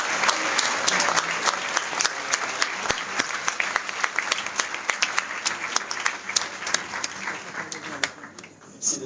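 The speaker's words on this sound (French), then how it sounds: "On peut l'applaudir." A crowd applauds steadily, dense clapping with sharp individual claps standing out, sustained loudly throughout.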